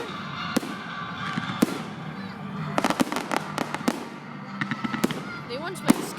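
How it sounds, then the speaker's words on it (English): Fireworks in Scotland burst in sharp, loud bangs that come irregularly, some isolated and some in quick crackling clusters, with people talking between the explosions. "it looks like a movie, doesn't it? Fireworks."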